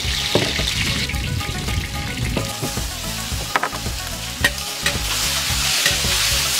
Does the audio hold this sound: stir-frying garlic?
yes